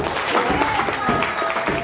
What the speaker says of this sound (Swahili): makofi kwa Yesu jamani